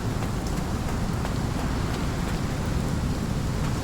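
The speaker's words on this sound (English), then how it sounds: "Crazy stormy weather." Heavy storm rain pours in a dark Victorian-era Sherlock Holmes adventure game, a dense, steady wash of downpour with low rumbling undertones holding constant throughout, no voices present.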